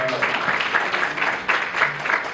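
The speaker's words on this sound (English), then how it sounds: "Give her a round of applause." An audience claps for a speaker being introduced at an event, steady dense applause throughout with a faint voice underneath.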